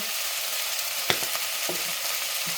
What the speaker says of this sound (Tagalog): Haluin lang natin hanggang sa ay mag-golden brown.